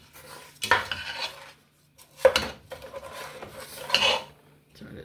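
Utensil scraping and stirring in a pan on the stove, a few distinct bursts of metallic rubbing and clatter separated by pauses, close and moderately loud with no talk.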